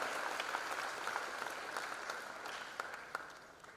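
Steady applause from an audience at a college freshers' induction program, many hands clapping continuously at moderate volume with a few sharper claps standing out.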